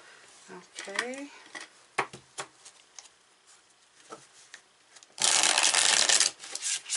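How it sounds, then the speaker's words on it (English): A deck of tarot cards is handled and then riffled in one loud, close, dense shuffle lasting about a second, after scattered soft card taps and rubbing, with a person talking briefly beforehand. "We're going to pull some tarot for this."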